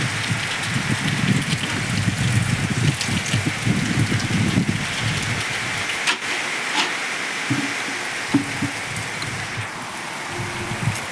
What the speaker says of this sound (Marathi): चांगला पाऊस चालू आहे सध्याला.